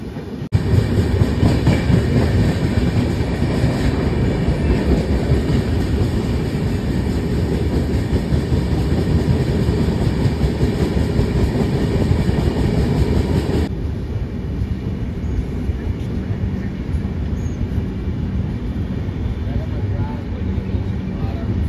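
Jaipur Bandra SF Express passenger train running on rails, a steady loud rumble of wheels and carriage noise throughout, with a faint clickety-clack rhythm and a drop in level partway through.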